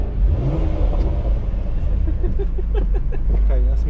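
A car bought at auction revs its engine, the exhaust rumbling deeply and rising in pitch in short bursts, close and loud, with people talking over it.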